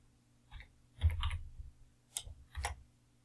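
Typing on a computer keyboard in Mathcad: a few close, distinct clusters of keystrokes with brief quiet gaps between them.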